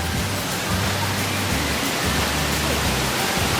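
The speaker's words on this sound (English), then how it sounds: "It's rain." Steady rain hisses outdoors near the Rastoke waterfalls in Croatia, a dense, even wash of noise that holds for the whole stretch with low rumbling underneath.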